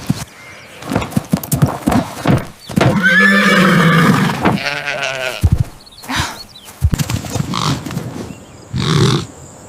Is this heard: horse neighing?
yes